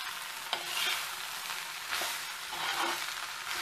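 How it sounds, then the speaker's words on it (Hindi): Soy sauce goes into a hot pan of ghughari being stirred, giving a steady bright hissing sizzle with a few soft scraping strokes, close and continuous. "थोड़ा सा मैं सोया सॉस भी डालूंगी।"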